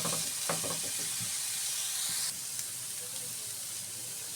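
Fish heads and gourd peel frying in a hot pan, a steady close sizzle and hiss with a few soft scraping stirs.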